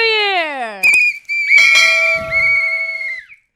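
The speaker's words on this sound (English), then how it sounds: "We don't have kazoos, but we have rape whistles." A loud, shrill whistle is blown in sharp bursts, one long sustained blast wavering in pitch, with voices and a falling tone around it at a New Year's celebration.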